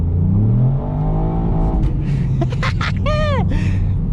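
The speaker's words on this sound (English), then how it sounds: "Full throttle, second gear." Ford Fiesta ST with a Stage 1 remap accelerating hard at full throttle in second gear on a greasy road, engine note rising loud and close, with a brief tyre squeal partway through and a voice speaking over it.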